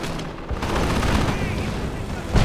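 Enemy artillery fire in Company of Heroes lands as a short, loud barrage of overlapping blasts and gunfire, dense and close, ending in a sharper thump.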